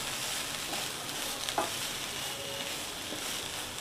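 Grated potato being sautéed in a pan sizzles steadily and softly, with a faint scrape of stirring partway through and no voices.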